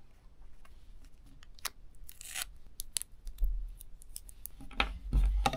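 Tape is pulled and cut by hand to cover a lav mic cable, probably for a helmet mic. The sound is close and fairly quiet, with scattered crinkling, tearing and snipping noises and a few louder rustles near the end.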